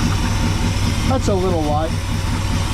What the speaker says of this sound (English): We'll do a little more adjustment on that carburetor, see if we can make that idle even a little more crisp.